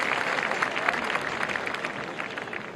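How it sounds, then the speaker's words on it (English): Crowd at the 2012 Eastbourne women's tennis final applauding, steady, dense clapping from many hands that carries on throughout at moderate volume. "She's going to get a big cheer."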